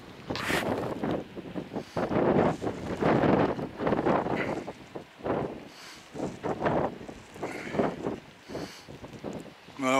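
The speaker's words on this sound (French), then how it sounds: "Et il y a le vent." Strong wind buffeting the microphone on a hilltop hiking trail in the Basque hills, loud irregular gusts that roar and drop off in waves with no talking.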